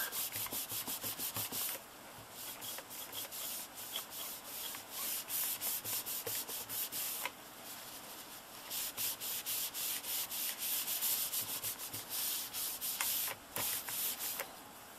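Sticky residue being scrubbed off a laptop surface with Palmolive dish soap, a steady rough rubbing and scraping that comes in continuous bursts with short pauses, close up and fairly loud, with no talking.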